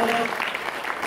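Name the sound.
applause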